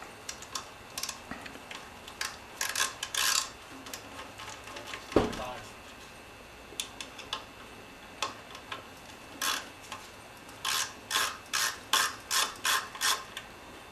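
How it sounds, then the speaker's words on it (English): A Snap-On ratcheting screwdriver removing a plastic cap on a Kawasaki Voyager XII motorcycle, giving rapid clusters of fine ratchet clicks in short repeated bursts, close and fairly quiet, with someone talking in between. "this is a snap-on ratcheting screwdriver. If you listen, you can feel the fine"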